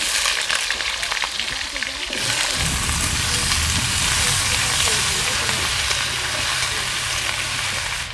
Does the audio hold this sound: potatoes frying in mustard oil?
yes